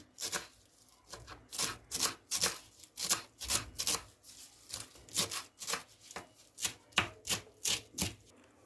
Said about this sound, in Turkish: Doğrama işlemimizde bir tek maydanozumuz kaldı.